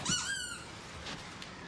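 A squeaky toy squeezed once, a short sharp rising squeak at the start that fades into a quiet room hiss.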